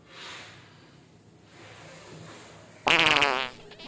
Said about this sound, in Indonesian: gimana kentut gue?